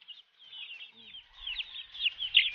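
Chickens cluck and chirp in a steady, busy stream, fairly close, with no talking.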